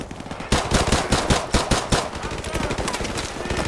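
Rapid pistol gunfire in the video game Call of Duty: Modern Warfare Remastered, a loud burst of sharp shots in quick, slightly uneven succession.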